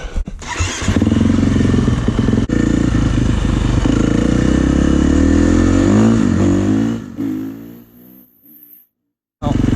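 A KTM 350 four-stroke motorcycle, ridden on the road to warm up, revs and pulls away close by, holding a loud engine drone for several seconds before it fades and cuts to silence.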